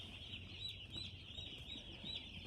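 Broiler chicks in a poly-walled brooding shed of about 1600 birds give soft clucks and a steady high peeping chorus, faint and continuous at a distance.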